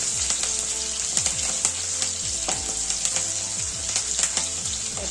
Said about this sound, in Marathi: आता हे चांगलं खमंग होईपर्यंत परतून घेऊया.